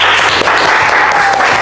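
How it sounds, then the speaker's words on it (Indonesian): Classmates in a school classroom give a loud, close burst of applause for a student group, a dense, continuous rattle of many hands clapping with no talking over it. "Tepuk tangan untuk kelompok daun."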